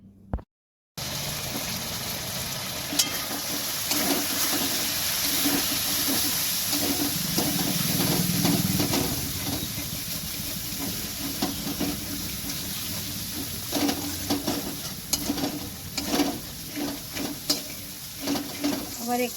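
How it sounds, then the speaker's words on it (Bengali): Turmeric and chilli powder fry in oil in a wok for a raw jackfruit curry, giving a steady close sizzle and hiss with scattered stirring clinks and scrapes throughout. "মাসি কড়াইয়ে দিলেন পরিমাণ মতন লঙ্কা গুঁড়ো"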